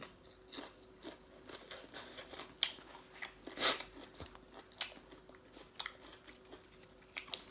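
Crunchy chewing of spicy Lao papaya salad mixed with rice noodles, close and quiet, with repeated crisp bites and one louder crunch midway, alone without talk.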